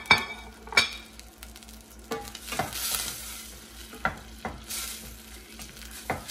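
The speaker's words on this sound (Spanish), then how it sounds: "Estoy agregando 2 cucharaditas de cebolla y 1 de ajo." Onion and garlic sizzle in a hot pan for white rice with vegetables, with a soft steady frying hiss broken by a utensil scraping and tapping the pan several times, close and alone.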